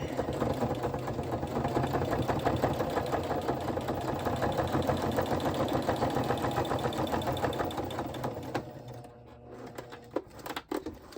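A sewing machine stitches the base of a scrappy flip flop journal, giving a steady, close mechanical whir for most of the stretch before it slows and stops near the end, leaving a few small clicks.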